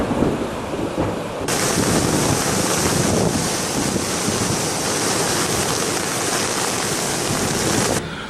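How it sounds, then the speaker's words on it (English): Floodwater rushes over a pond and low water crossing after days of heavy spring rain near Tapatio Springs, a loud, steady broadband roar that swells in after a quieter start and holds without break. "The water is just now beginning to really flood over the pond back here"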